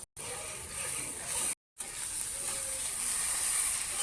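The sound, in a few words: bottle gourd peel paste sizzling in hot oil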